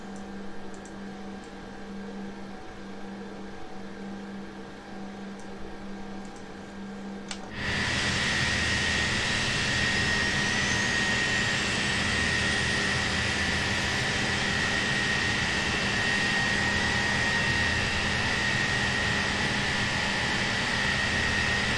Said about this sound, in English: Noisy bastard engines these are.